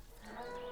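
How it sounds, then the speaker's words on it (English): A goat bleats in the dinosaur park game Jurassic World Evolution, a single short, wavering cry of under a second, fairly faint and heard alone. "And a goat."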